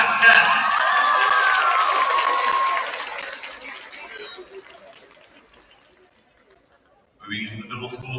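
Loud clapping and cheers from a high school women's basketball crowd swell, then taper off to near quiet before another round of applause starts up at the end.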